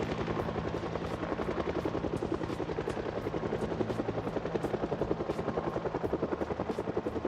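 A helicopter in the zombie survival game Project Zomboid, its rotor chopping loud and steady in a fast, even pulse throughout, with no voices.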